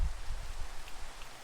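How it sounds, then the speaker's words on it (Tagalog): Steady rain patters in Minecraft, a soft continuous hiss of falling drops with faint low rumbles, quiet and with no voices. "Gusto ko itong umuulan na to."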